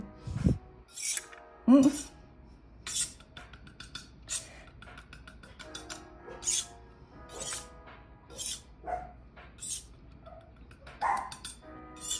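Lottie, a pet puppy, lets out a string of sharp, short barks and yips spread across the stretch, moderately close, with quiet gaps and faint background noise between bursts.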